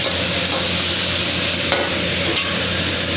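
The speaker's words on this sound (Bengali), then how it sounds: "দিয়ে ফুল হিটে এটাকে আমি ফ্রাই করবো" Chili paste with black pepper fries on full heat, a loud, dense, continuous sizzle close up with faint stirring scrapes and no voices.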